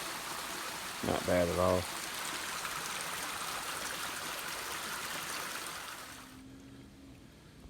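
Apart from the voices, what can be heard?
creek water running over rocks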